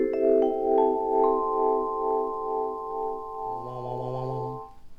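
Vibraphone with its motor running at a slowed speed, sustained struck bar tones swelling gently in a slow vibrato pulse, a few notes layered over one another, played alone and clearly without any talk.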